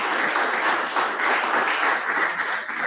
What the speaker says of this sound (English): how about one last round of applause for our speakers?